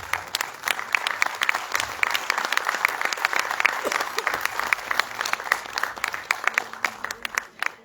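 An audience at a science film festival inaugural function in India applauds with dense, continuous clapping for several seconds, fading slightly toward the end.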